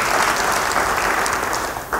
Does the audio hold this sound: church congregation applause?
yes